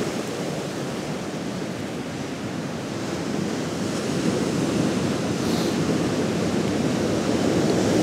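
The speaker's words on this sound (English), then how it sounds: "I'm not having much luck with these waves" Steady roar of surf washing onto a beach, broad and continuous, swelling slightly louder partway through, with some wind rushing against the microphone.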